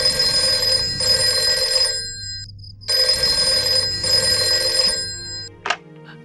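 A telephone rings at night, its bell trilling in two long, loud bursts separated by a brief silence, followed by a short clatter.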